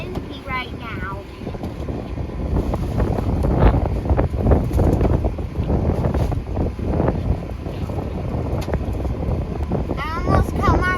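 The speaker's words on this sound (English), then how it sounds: "It's kind of windy right now." Wind buffets the microphone in gusty, rumbling bursts, with faint voices at the start and end.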